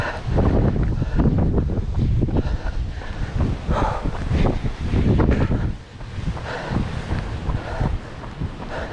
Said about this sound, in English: these winds are pretty strong